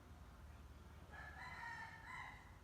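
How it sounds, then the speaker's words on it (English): Roosters crowing in the background, a faint, distant cock-a-doodle-doo rising about halfway through over a low steady ambient rumble. "Hear the roosters in the background."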